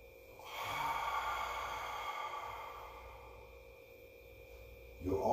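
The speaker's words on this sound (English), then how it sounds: "Exhale." A single long, breathy exhale during stretching, close and soft, rising quickly and fading slowly over several seconds before a short noise at the end.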